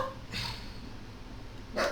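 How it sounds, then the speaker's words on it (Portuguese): Two short bursts of dog barking ring out, one near the start and another at the end, with a quiet indoor lull between them. "vai ficar os cachorros latindo e eu mandando eles pararem"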